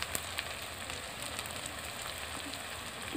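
Spice paste for a picnic-style country chicken curry with potatoes sizzles steadily in a pan, a dense continuous crackle and hiss with no talking over it.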